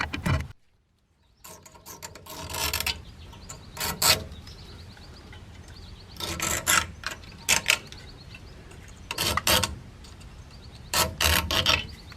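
Wrench being turned to loosen a rusted rear axle shaft seal, giving repeated bursts of ratcheting, grinding mechanical clicks that come in uneven clusters with quieter pauses between them, close and fairly loud with no talking.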